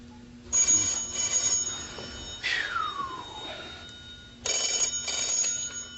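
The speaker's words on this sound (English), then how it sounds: "Oh man, I knew I heard a ringing." A telephone rings in bursts of bright, tonal chiming, three rings separated by short gaps, clear and fairly close in a quiet room.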